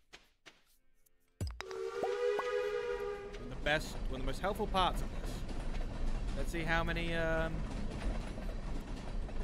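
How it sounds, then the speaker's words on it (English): In the Stardew Valley video game a train passes, its horn blasting long tonal whistles over a steady rumbling roll of cars, while a person talks over it. "Oh, a train! Hey, this is the first time I've been up here, actually, when a train's passed through."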